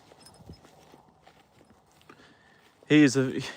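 Soft, irregular hoof clops from a retired racehorse walking nearby, fairly faint for most of the stretch, before a person starts talking loudly near the end.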